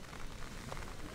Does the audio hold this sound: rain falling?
yes